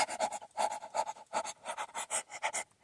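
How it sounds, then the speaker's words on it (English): A happy dog pants in quick, rhythmic bursts close by, at night outdoors at a new campsite, with short pauses between runs of breaths and no talking. "Happy dog"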